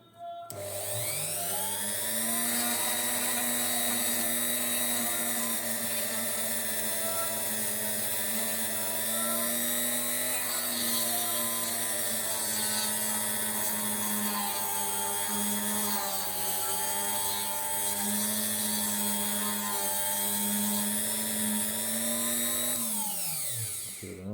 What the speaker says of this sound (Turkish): Şimdi şu birazcık elimizde kalın zımpara varken biraz daha şekillendirmesini de bununla yapalım